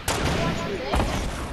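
Fireworks in the Fortnite Battle Royale 50v50 mode crackle and pop in two loud bursts, sharp explosive cracks over a busy game backdrop.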